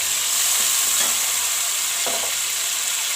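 Tomato, onion and green chili hit hot ghee in a pan, giving a steady bright sizzle and hiss with a couple of brief stirring scrapes, close and alone.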